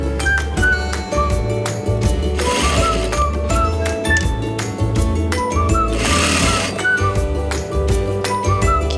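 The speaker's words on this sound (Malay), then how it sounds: "Pelajar perlu tarik getah ini bersama-sama dengan fabrik dan mulakan menjahit." Sewing machine stitching elastic onto fabric, a loud, close, fast regular rattle of the needle that runs nearly continuously, with brief pauses and faint whirring between bursts.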